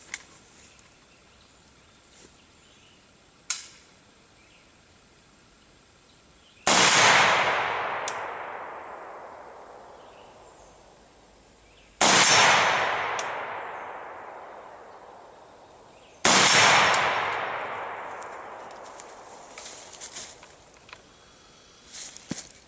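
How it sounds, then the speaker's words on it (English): A Krebs Custom AK-103K rifle fired offhand outdoors at a steel plate: three loud, sharp shots spaced several seconds apart, each followed by a long fading echo, with faint ticks between. "Take a couple shots offhand."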